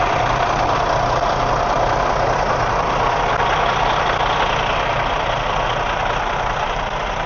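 A semi truck's diesel engine idles in a loud, low, steady rumble that holds close and unbroken throughout, with no voices.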